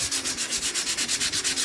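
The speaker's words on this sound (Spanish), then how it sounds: "agarro un pedazo de lija y le doy con la mano" Sandpaper rubbed by hand rapidly back and forth along the grain of wood in quick, regular strokes, a close and steady rasping scratch with no voices.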